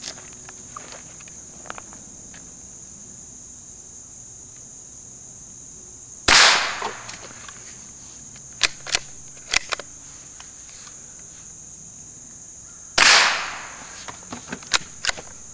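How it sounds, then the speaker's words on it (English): Two sharp, loud unsuppressed .22 rifle gunshots with subsonic ammunition, several seconds apart, ring out over a steady high insect drone, each followed by a short echoing tail and faint clicks. "First I'm going to shoot it without a suppressor so you can hear the noise."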